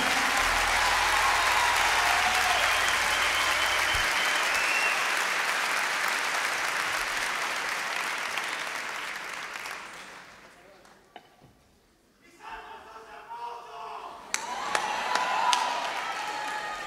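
An audience gives loud, sustained applause with some cheering at a live music event, holding strong for about ten seconds before fading into quieter scattered claps and room noise.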